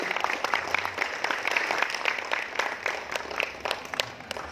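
Audience applause at a public gathering in Jombang, Indonesia, a dense, even clatter of many hands clapping continuously for several seconds, fairly close and without speech.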